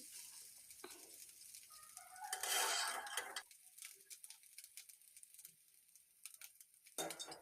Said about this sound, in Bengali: মশলাগুলো দিয়ে কিছু সময় ভাতটাকে নেড়ে নিতে হবে